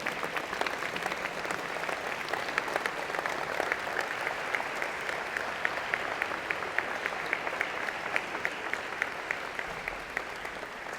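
An audience at an engineering and computer science convocation gives sustained applause to students recognized for internships, a steady, moderately distant wash of clapping with sharper individual claps scattered throughout.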